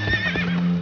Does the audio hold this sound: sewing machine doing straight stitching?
no